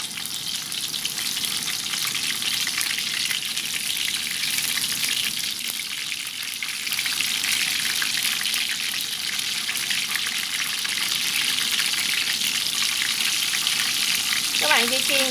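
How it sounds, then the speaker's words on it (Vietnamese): Tofu skin rolls stuffed with mushroom fry in hot oil, giving a continuous loud crackling sizzle that holds steady throughout, with a faint clink near the end. "Bây giờ mình sẽ cho nó vào đây để mình chiên nha."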